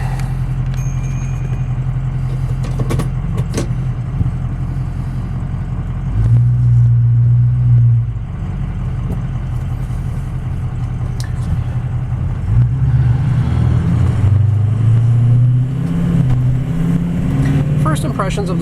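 A 2004 Ford F350 Harley Davidson Edition pickup drives along, its engine rumbling low and steady inside the cab with gear-change swells in revs and road noise throughout, while people talk over it.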